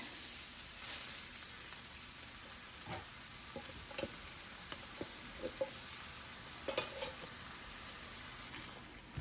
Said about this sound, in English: Let this meat mixture simmer.